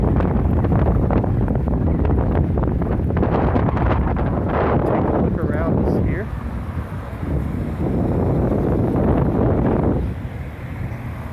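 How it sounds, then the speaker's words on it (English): Wind buffets the microphone in heavy, sustained roaring gusts on the Las Vegas Strip during a walk past road construction, easing briefly twice, with traffic and street noise faint underneath. "Wait till we hit a little bit of wind right there."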